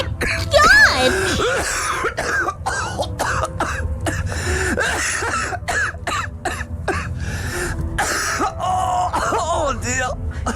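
A man coughs and clears his throat again and again in harsh, rasping fits, with groans and strained vocal noises mixed through a loud, nearly continuous stretch.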